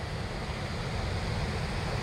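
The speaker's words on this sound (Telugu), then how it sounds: "గత 60 సంవత్సరాలు ఎప్పుడు కూడా ఇంత ఉధృతంగా కంబం చెరువుకి నీళ్లు రాలేదు" Floodwater pours over the overflow weir of Kambham tank, a naturally formed lake running higher than in sixty years, heard as a steady, dense roar of rushing water with no breaks.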